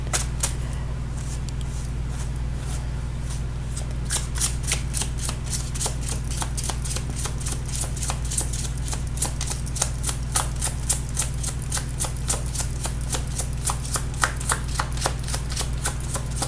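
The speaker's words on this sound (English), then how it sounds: "Let me reshuffle that back in." Tarot cards being shuffled by hand, a close, steady run of rapid riffling clicks that grows denser and more rhythmic after the first few seconds.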